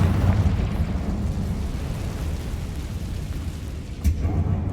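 A Confringo blasting spell erupts in Hogwarts Legacy as a deep, rumbling explosion that rolls and booms for several seconds, with a sharp burst near the end, loud and without talking.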